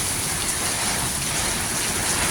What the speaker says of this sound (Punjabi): ਉਨਾ ਹੀ ਅੱਜ ਤੇਜ਼ ਮੀਂਹ ਆ